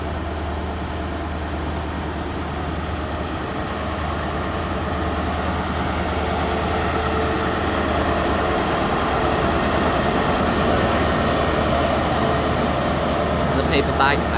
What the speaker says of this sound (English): departing now is 43192 and 43190 with a Great Western Railway service to Paignton.